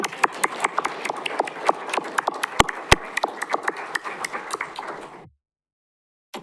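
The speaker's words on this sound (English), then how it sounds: "Now we can clap for Ed Wagner." Applause at a city council organizational meeting: scattered, uneven claps from a modest group in a room, a few sharp louder claps standing out, lasting about five seconds before stopping abruptly into silence.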